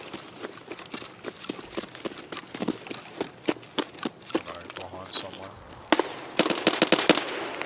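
Rapid gunshots ring out in Escape from Tarkov on an island map, with a steady run of sharp cracks of varying loudness and a denser, louder burst toward the end, and players talking throughout.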